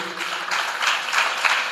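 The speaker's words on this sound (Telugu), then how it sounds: "గట్టిగా చప్పట్లు కొట్టండి." A church congregation clapping loudly during a pastor's sermon, a brief burst of dense, steady applause that fills the room for under two seconds with no voices over it.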